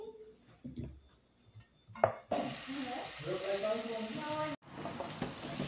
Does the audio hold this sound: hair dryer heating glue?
no